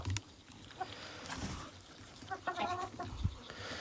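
Chickens and a sick rooster cluck softly nearby in a quiet setting, with scattered short calls and a low rooster note.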